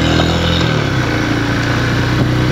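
A 2018 Royal Enfield Himalayan motorcycle engine running steadily while riding, a loud continuous low drone with wind rush, close and without talk.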